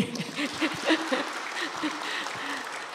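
Scattered applause from the audience at a year-end Ministry of Transportation press conference, brief and moderate, mixed with laughter and voices talking over it.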